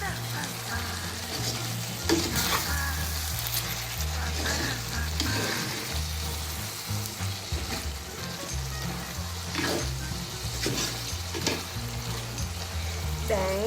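Pork frying in its own rendered oil in a pan, a loud continuous sizzle and crackle with irregular pops and spatters throughout, close up and without talk.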